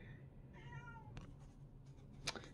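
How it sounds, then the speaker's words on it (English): A cat meows once in a drawn-out, wavering cry, fairly close, followed by a few soft rustles and a brief sharp click. "If you hear a cat in the background, that is Fizzgig, my cat."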